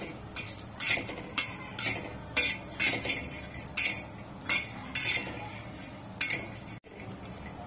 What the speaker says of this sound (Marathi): थोडंसं तेल घालायचं आहे आणि रंग बदलूपर्यंत आपल्याला हे खोबरं भाजून घ्यायचं आहे